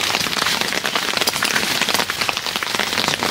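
Steady rain falls on surfaces beside an old fishpond at night, a dense, even hiss of drops lasting throughout with no voices, still fairly heavy rather than clearly tapering.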